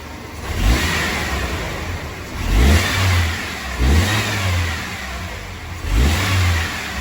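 A car engine revs sharply in repeated throttle snaps, four distinct surges each rising and falling back, loud and close, with no voices.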